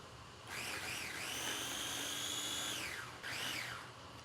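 An electric food processor or blender grinds basil, garlic and red wine vinegar into pesto, with two whining bursts that rise and fall in pitch, the first longer, the second short, alone without talk.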